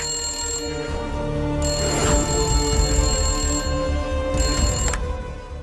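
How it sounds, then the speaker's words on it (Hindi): An electronic phone ringtone plays continuously for several seconds, a steady melodic tone over a low background rumble. "देख तो कौन फोन बजा रहा है अभी।"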